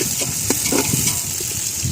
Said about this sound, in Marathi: तेलामध्ये घातला कांदा, चांगला परतून घेतला लाल लाल लाल लाल